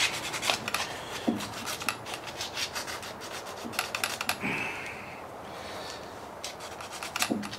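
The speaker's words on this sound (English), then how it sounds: "Take a little bit of sandpaper where this ground was" Sandpaper rubs over a ground contact point on an Evinrude 15 HP outboard motor, making close, fairly quiet rasping scrapes in quick irregular strokes with brief pauses.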